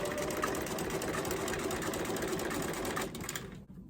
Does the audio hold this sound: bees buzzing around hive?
no